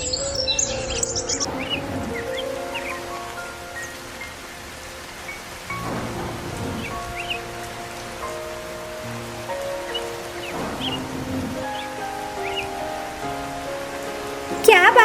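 Steady rain falls in a bird cartoon scene, a continuous hiss with brief rumbles and bird chirps scattered through, staying at an even moderate level.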